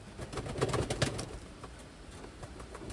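Pigeons give soft, low cooing calls, a few throaty murmurs close by in the first half, then quieter background rustling.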